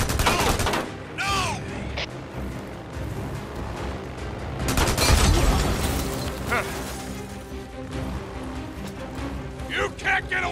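Rapid gunfire in the Days Gone video game, shots aimed at a fleeing vehicle's tires, sounding as repeated sharp bursts over loud engine and action noise while someone shouts over it.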